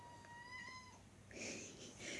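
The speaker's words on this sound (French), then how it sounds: "C'est mon chat qui miaule." Domestic cat meowing nearby, one drawn-out tonal meow followed by a rougher, louder cry, faint against low background hum.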